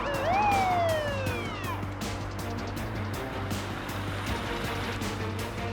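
An ambulance siren wails at the start, sweeping up and then falling away, over a low, steady engine drone.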